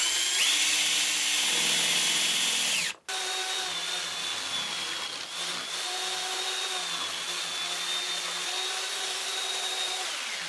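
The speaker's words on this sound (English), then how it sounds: "the plan calls for sections to be cut by the jigsaw, and first a few access holes" Power drill boring access holes in a whiteboard underside, a steady loud whine that halts briefly then restarts and runs continuously, close by, with no talking.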